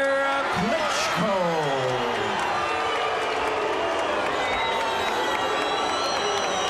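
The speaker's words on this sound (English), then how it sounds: "some mixed reaction from the crowd here" Arena crowd at a heavyweight boxing match reacting to a split technical decision, a loud sustained roar of cheers, whistles and scattered boos filling the space, with a commentator's voice running underneath.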